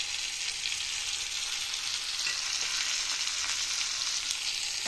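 Onion and curry leaves frying in hot tempering oil for a tomato and ripe chili chutney, giving a continuous dense sizzle, close and even throughout, with no voices.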